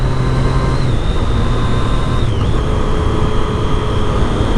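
A 2015 Triumph Daytona motorcycle engine roars loud and close in a steady, sustained drone with a high whine that dips slightly in pitch, with no voices.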